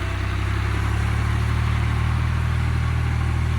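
A tractor engine running steadily at idle, a loud, constant low rumble close by with no talking.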